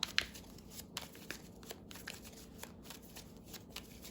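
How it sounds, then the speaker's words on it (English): A deck of tarot cards is shuffled by hand in a quiet room, giving a run of soft, close riffling and flicking bursts with light papery crackles, with no talk. "I'm just gonna reshuffle."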